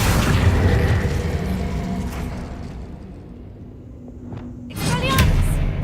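Incendio fire spell cast in a Hogwarts video game, a loud booming burst of fire that rumbles and fades over a few seconds before another sharp magical blast near the end.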